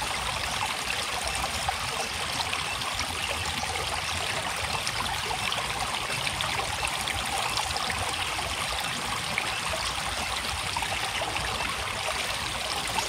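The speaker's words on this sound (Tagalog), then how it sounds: "Ito yung original na sapa." Water in an original, natural creek flowing steadily over stones, a continuous close babbling rush with no pauses throughout.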